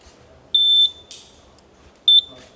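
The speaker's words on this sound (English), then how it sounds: "Once you hear a second beep, the green light will have come on" A laser race timing gate sounds two pairs of sharp, loud electronic beeps, about a second and a half apart, in a quiet setting with a faint rustle between them.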